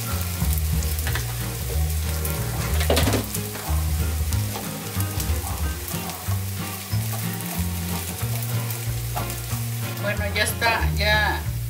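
Chicharrón sizzles steadily in a pan on the stove, a loud continuous fry with crackles and spatter, plus a low background hum or music running under it throughout.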